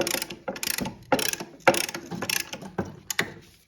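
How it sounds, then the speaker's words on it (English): Brake caliper piston compressor ratcheting on the rear brake caliper of a 2010-2015 Lexus RX350/RX450h during a pad replacement: a series of sharp, close mechanical clicks in about eight bursts, loud and with no talk. "or you can use a brake caliper piston compressor like this."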